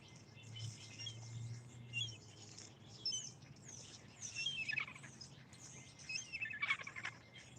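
Small birds chirp and tweet in quick, scattered bursts while being fed outdoors, the calls fairly faint over a steady low background hum, with several brighter tweets near the end.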